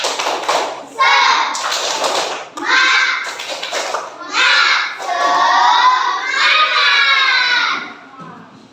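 Children in an Islamic school class perform a tepuk semangat clapping chant, voices chanting loudly together in rhythmic bursts with taps and thuds of claps, close and lively, several short phrases in a row.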